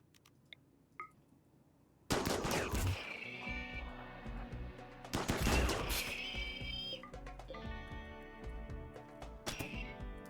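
Uranium turrets firing in the RimWorld video game, with loud heavy bursts and crashes starting after a quiet opening and rattling on in uneven waves.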